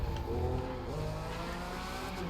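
A car in the racing game The Crew 2 drifts with a loud, sustained tire squeal over a revving engine, holding the screech steadily for a couple of seconds.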